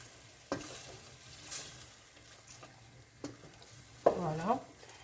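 A spoon stirs beef in a pot for beef with carrots, making four separate scraping strokes spaced across a quiet background, the last one longest and loudest.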